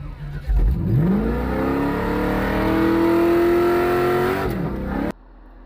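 A car doing a tire burnout, the engine revving up sharply and holding a high, strained whine with tire squeal for several seconds before cutting off abruptly, loud and close.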